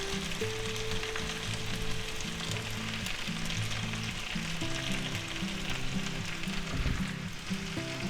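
Onions being added to a pan of frying potatoes and sausage sizzle steadily and loudly throughout, a dense continuous crackle with no talking.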